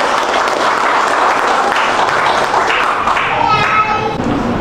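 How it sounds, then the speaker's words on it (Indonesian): An audience applauds a consultancy representative at a talk, with sustained, even clapping that runs throughout and some voices murmuring beneath it. "Tepuk tangan buat Pala Hayati dong."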